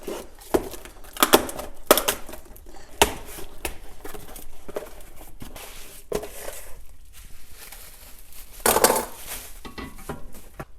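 A replacement lawn mower part is unboxed up close: scattered rustles, taps and clattering knocks of packaging and parts being handled, with sharp irregular peaks and quiet stretches between them.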